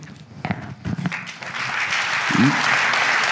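Audience applause at a French customer-experience directors' gala: a few voices over scattered claps at first, then steady, full clapping from the room that builds and continues to the end.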